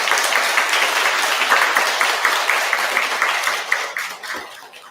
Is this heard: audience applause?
yes